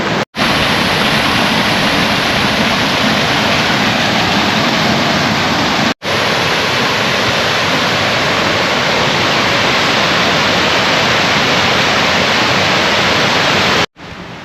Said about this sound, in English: Do you reckon I've got enough waterfall footage?